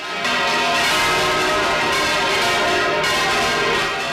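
Loud, ringing church bells in Albaida peal continuously, their overlapping tones clanging with fresh strikes every second or so.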